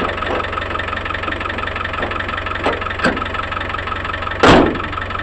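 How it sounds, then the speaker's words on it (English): A Land Rover Discovery 1 diesel engine idles with a steady low, even chugging throb, close by and alone, broken by a few light clunks and one sharp louder knock near the end. "Okay, motor's running."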